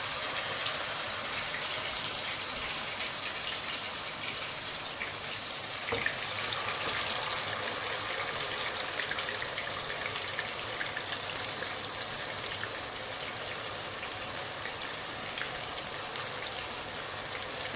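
Kolkata-style chicken chaap pieces frying in hot oil, a dense, even sizzle that holds steady and close for the whole stretch, with no talking.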